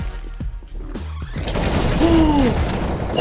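Video game gunfire, a rapid burst of sharp shots up front, then a loud rumbling wash of explosion and noise with a whooshing sweep, no talking.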